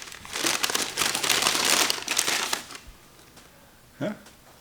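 A paper bag holding piston rings crinkles and rustles close up for a few seconds in dense, busy bursts, then falls quiet before one short final crumple.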